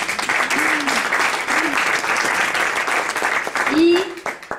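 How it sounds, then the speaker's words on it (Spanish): Audience applause for the theatre technicians at a stage show, steady dense clapping throughout with a few voices calling out briefly over it. "Un aplauso para ellos."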